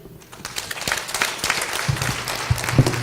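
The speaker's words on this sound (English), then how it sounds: "Another round of applause for them." Applause breaks out for a panel at the Women, Power and Change Conference 2024, a steady patter of hand claps from an audience that builds and holds for a few seconds.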